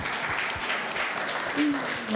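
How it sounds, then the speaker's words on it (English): A crowd claps steadily at a supper event, a dense wash of applause that holds at an even level for a couple of seconds. "Give them a round of applause"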